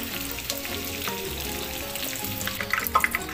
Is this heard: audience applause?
no